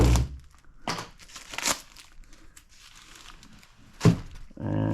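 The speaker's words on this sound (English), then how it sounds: "Just make sure that when you're cutting into these bags, you don't accidentally cut into the parts." Plastic bags holding parts for a BlitzRCWorks Mini F-86 RC jet are cut and torn open, giving a few loud crinkling bursts separated by quieter rustling and handling noise, close to the microphone and without talk.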